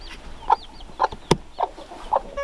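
Barred Rock roosters and hens on a homestead cluck in a loose series of short, separate calls, fairly close and clear over a quiet yard.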